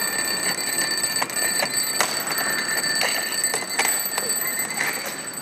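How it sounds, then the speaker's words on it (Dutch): Many alarm clocks ring together inside a busy train station concourse, their bright continuous jangling and beeping filling the space with sharp clicks and knocks over a crowd murmur. "Treinreizigers op het Centraal Station van Den Haag keken vanochtend verbaasd op toen ze wekkers hoorden afgaan"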